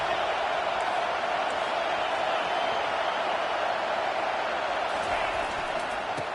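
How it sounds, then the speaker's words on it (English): A dense, steady stadium crowd roar at a college football game fills the space on a fourth-down play, loud and sustained, with no breaks and voices blurred into a single wash of noise. "This crowd bringing serious noise on this huge, huge 4th down play."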